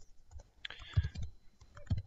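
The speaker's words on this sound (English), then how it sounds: "It might actually be faster for me to type out. I'm pretty fast typer actually." A computer keyboard is typed on while coding in Python, giving a short run of soft, close, irregular key clicks with no talk.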